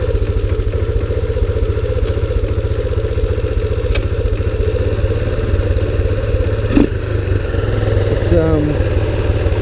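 A 2001 Kawasaki Bayou 300 ATV engine idles roughly with a steady, close, low chugging throb throughout, with a brief metallic clink partway through.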